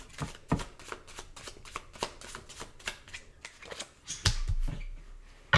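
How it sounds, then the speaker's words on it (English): Tarot cards are shuffled by hand nearby, making a steady series of crisp slapping taps and riffles that grows a little louder toward the end. "let's pull 3 cards for what do you need to know"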